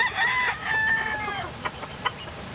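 A rooster crows loudly and close by in a pen, a long strained call followed by a few short clucks from nearby chickens.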